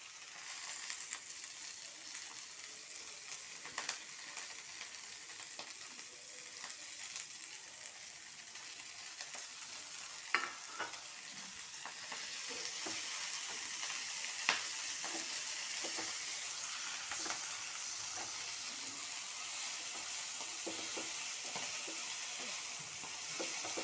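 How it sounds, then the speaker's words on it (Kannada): Fenugreek leaves sizzle and fry in a pan while being stirred, a soft, steady crackle with occasional scrapes, fairly faint and with nothing else over it. "ಇದು ಒಂದು ಐದು ನಿಮಿಷನಾದರೂ ನಾವು ಇದನ್ನು ಹುರ್ಕೋಬೇಕು ಚೆನ್ನಾಗಿ ಸೊಪ್ಪು ಬೇಯಿಸ್ತಾವಲ್ಲ ಆ ರೀತಿ ನಾವು ಬೇಯಿಸ್ಕೋಬೇಕಿದ್ವಿ"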